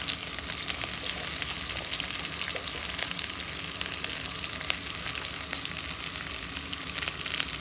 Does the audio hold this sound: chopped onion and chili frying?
yes